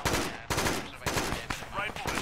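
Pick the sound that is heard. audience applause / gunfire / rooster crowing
gunfire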